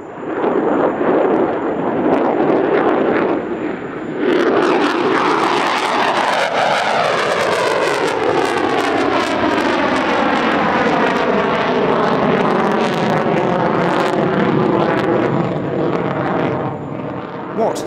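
An F-35 fighter jet holds a sustained turn at the Dubai Airshow, its loud roar carrying sweeping, shifting harmonic tones as it arcs past, staying powerful from start to finish.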